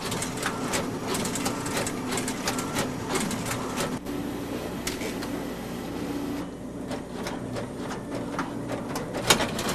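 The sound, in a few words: pick-and-place machine placing electronic components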